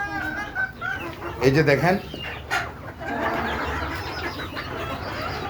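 Desi chickens on a rooftop, soaked after several days of steady rain, cluck and squawk in short bursts close by, while someone talks over them.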